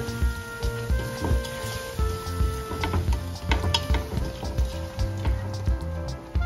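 Vegetables sizzle and crackle steadily as they sauté in a pot for a seafood soup, a continuous frying patter with occasional clinks of utensil against the pot.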